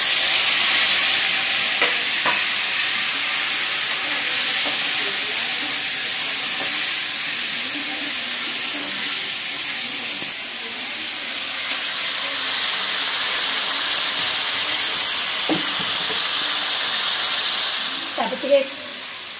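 Tomatoes frying in hot oil in a kadai with stirring, a steady broadband sizzle and hiss running throughout at moderate loudness, with occasional scrapes and clinks of the spoon against the pan.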